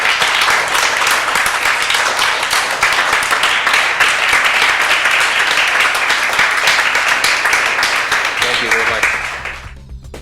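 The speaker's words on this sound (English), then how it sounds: "Let's have a round of applause for Chuck for such a great discussion." Sustained applause from a sizable crowd after an energy medicine talk, dense and steady clapping for about nine seconds before it fades out at the end.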